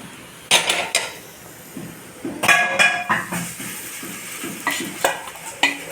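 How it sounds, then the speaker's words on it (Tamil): Country chicken gravy is stirred in a pot on a stove, with intermittent scraping and clinking of a metal spoon against the vessel and soft bubbling in between, close and moderately loud. "சேர்த்துட்டு ஒரு நிமிஷம் அப்படியே அடுப்பில் வச்சு கிண்டிக்கலாம்"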